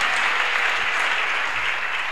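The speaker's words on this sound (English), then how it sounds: "Clap for Jesus Christ." A church congregation at a Ugandan worship service claps together in a thick, continuous burst of applause, loud and uniform throughout, with no speech over it.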